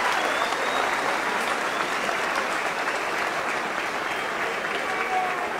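Steady, dense applause from boxing spectators at Christian Carto's fight against Ruiz, a continuous wash of many hands clapping close and loud, with no voices standing out.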